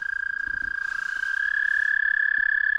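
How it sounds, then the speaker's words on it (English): Frogs along the lower Susquehanna River call in a rapid, continuous pulsing trill that sounds close and loud, with a steady whistling tone running beneath the croaks and no talking. "This place is loaded with frogs, as you can hear all the crazy noises that are being made"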